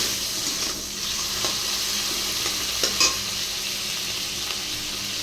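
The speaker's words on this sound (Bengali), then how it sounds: "এবার চিংড়ি মাছ কটা ভেজে নেব" Prawns fry with salt and turmeric in a wok, giving a steady close sizzle with occasional stirring scrapes and small spits of hot oil throughout.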